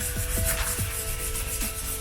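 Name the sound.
wet sanding a VW Passat headlight with sandpaper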